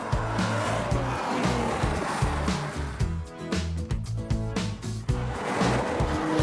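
A Porsche Macan Turbo in S+ mode pulls hard with its louder sport exhaust, the engine note rising and dropping through quick successive gear changes, loud and close with no talk over it.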